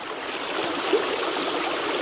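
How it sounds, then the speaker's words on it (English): Stream water flows steadily through woodland near a campsite, a continuous broadband rush and trickle with no break, fairly close and alone. "moving water versus just stagnant water, this stuff's a lot better"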